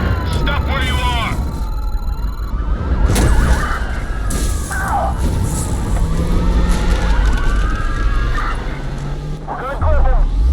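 Police sirens wail in a Watch Dogs pursuit with a five-star wanted level, rising and falling in a continuous sweep. Engine roar, crashes and bursts of radio and shouted voices come and go throughout.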